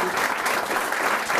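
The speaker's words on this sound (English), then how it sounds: "let's give Steve a round of applause" A campaign-event audience in Plymouth, New Hampshire applauds, a dense burst of many hands clapping at once, loud and close, with a few voices mixed in.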